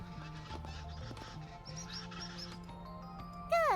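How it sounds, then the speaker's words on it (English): Birds chirp in a video game morning scene from The Legend of Heroes: Trails Beyond the Horizon, faint repeated tweets under a soft game soundscape, ending in a brief louder swooping chirp. "Good morning, birdies. Yay. You sound extra happy today."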